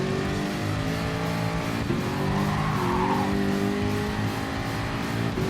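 Race car in Gran Turismo Sport brakes into a corner with loud engine drone, shifting revs and squealing tires skidding through the turn, a continuous close roar without talk.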